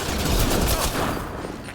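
Dense, rapid automatic gunfire during a battle in the video game Mass Effect Andromeda, loud and close in a continuous barrage that thins out toward the end.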